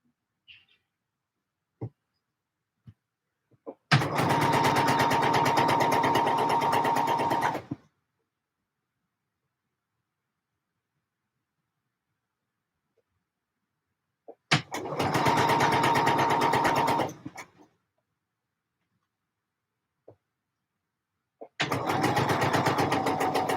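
Two clear runs and the start of a third from a sewing machine stitching T-shirts, each a steady motor drone of a few seconds, separated by near silence with only a few faint clicks.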